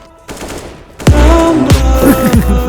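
Game gunfire from GTA 5 during online play: a quiet start, then a loud burst of shots after a second, with further sharp reports at about 1.7 and 2.4 seconds and dense ringing, echoing effects in between.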